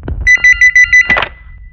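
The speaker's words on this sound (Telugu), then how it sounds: "ఫోన్ వస్తుంది" Loud electronic phone ring in five quick bursts of a bright trilling tone, then a short clatter as the ringing cuts off and a faint tone lingers.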